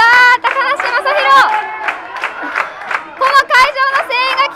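A packed pro-wrestling crowd at Shinjuku Face roars and chants in loud rhythmic waves, many voices rising together in pulsing shouts close to the mic.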